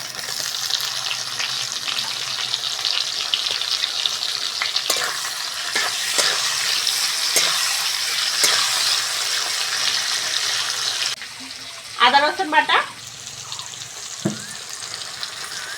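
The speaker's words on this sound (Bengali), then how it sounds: "পেঁয়াজ ভালো করে ভেজে নিয়েছি টমেটোটা দিয়ে দেবো" Tomato dropped into a pan of fried onions, a steady loud sizzle of frying with a few stirring scrapes, then a brief burst of splashing near the end.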